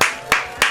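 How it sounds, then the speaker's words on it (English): Three sharp hand claps in quick succession, evenly spaced and close by, with no voices. "Round of applause again."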